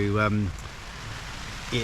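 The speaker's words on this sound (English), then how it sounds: "I arrived at the campsite, rain ramped up to another level." Heavy rain pours down at an English campsite on a long-distance coast-to-coast hike, a steady close hiss throughout, with a voice briefly at the start and again at the end.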